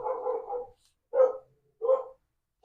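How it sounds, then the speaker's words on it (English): A dog barks in four separate bursts, one long rough bark followed by three shorter ones spaced about a second apart, fairly close and with no talking. "I thought I would cut out the barking."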